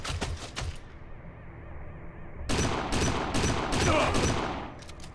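Gunfire in the Kane and Lynch 2: Dog Days video game: a few shots, a brief lull, then a dense, loud fusillade of rapid overlapping rounds without speech.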